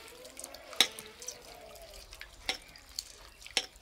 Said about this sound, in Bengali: চিড়েটা পরিষ্কার করে ধুয়ে নেব